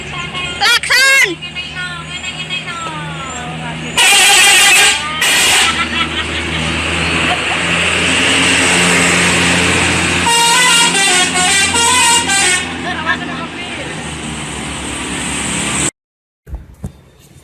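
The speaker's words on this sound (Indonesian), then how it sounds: "Klakson." Indonesian bus telolet horns blaring melodic multi-tone tunes in repeated bursts, loud and close over engine rumble and road noise, with people talking and shouting throughout.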